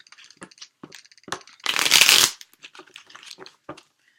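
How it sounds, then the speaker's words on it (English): Tarot cards are handled with soft taps, then riffled in one quick, crisp shuffle up close, followed by more light tapping. "just one more clean shuffle"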